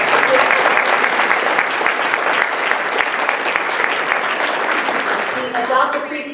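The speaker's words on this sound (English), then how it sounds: "I'd like us to all recognize and give him a round of applause" An audience at a League of Women Voters annual meeting breaks into loud, sustained applause that fills the room, tapering slightly at the end as a voice begins to speak.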